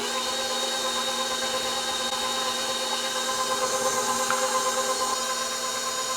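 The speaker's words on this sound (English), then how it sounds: "I'll turn my mixer off" An electric stand mixer whirs steadily while mixing ricotta cookie batter in a home kitchen, a constant, fairly quiet motor hum with a faint rhythmic churn and no talking.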